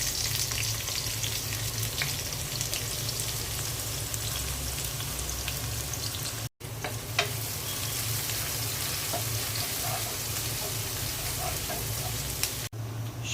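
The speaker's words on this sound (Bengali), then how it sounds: "পেঁয়াজটা আমি একটু লাল লাল করে ভেজে নেব" Onions frying in oil in a large pot for biryani, a loud steady sizzle heard close up for the whole stretch with only brief breaks.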